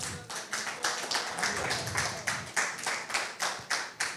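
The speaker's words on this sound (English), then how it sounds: "Give her a round of applause" Rhythmic clapping from an audience at a funeral gathering, a steady run of sharp, fairly loud claps pulsing roughly every half second, with no talking over it.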